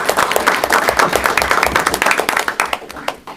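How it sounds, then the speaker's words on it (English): A school board meeting audience of students gives their parents a round of applause, dense steady clapping from a crowd that carries on throughout with some voices mixed in. "students, please give your parents a round of applause"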